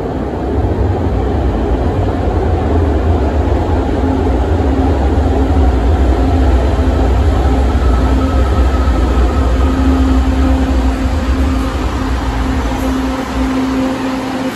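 Steady, loud rumble of an LRT Line 2 light rail train in motion toward Masinag Station, Antipolo, with a low droning hum and faint rattling throughout, no voices.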